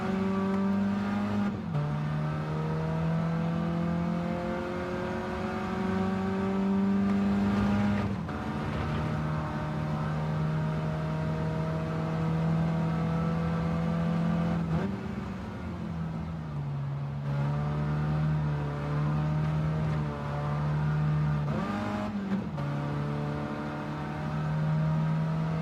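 A race car engine in the Gran Turismo 7 racing game drops through the gears while trail braking on a lap: a loud, sustained engine drone whose pitch steps down and blips at each shift, with no talking.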